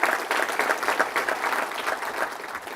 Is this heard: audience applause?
yes